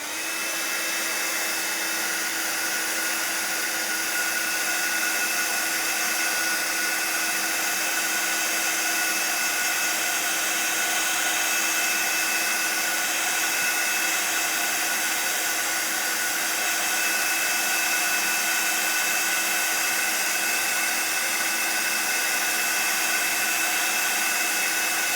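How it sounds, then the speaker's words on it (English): A heat gun blows steadily to dry paint on a handmade card, a constant, close whirring hiss of fan and air that runs unbroken for the full length with no talk. "just give it a little blast with your heat dryer"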